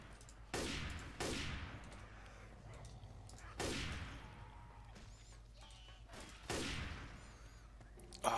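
Rifle gunfire in the video game Left 4 Dead 2 comes as four loud, separate bursts, each a sharp crack with a long decaying tail, spaced a couple of seconds apart over faint game background noise.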